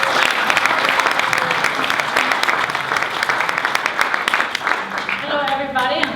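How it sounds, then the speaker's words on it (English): An audience claps steadily at a holistic health talk to welcome the speaker onstage, a loud, even wash of applause that fades toward the end as a voice and faint music begin. "big round of applause"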